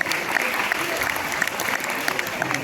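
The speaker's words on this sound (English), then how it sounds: "Give him a big round of applause." An auditorium audience at a CBSE training program certificate ceremony claps steadily, a dense, even patter of many hands sustained throughout with no voices over it.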